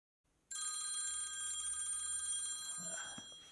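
Telephone bell rings loudly and continuously for about two seconds with a bright metallic trill, then cuts off and fades into a brief faint rustle.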